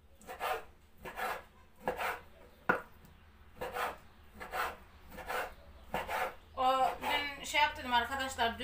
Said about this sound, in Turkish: İlk önce tavuğunu doğrayak